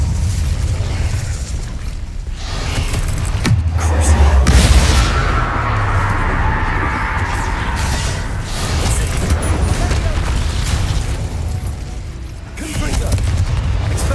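An Incendio fire spell cast in Hogwarts Legacy erupts as a loud, sustained fiery whoosh and burst with a booming swell in the middle, heard up close for the whole stretch.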